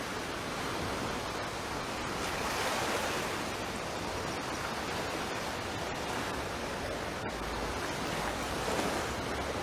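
Ocean waves wash onto a tropical island beach between Sugar Bay and Soco, a continuous close surf roar mixed with wind buffeting the microphone, and no voices.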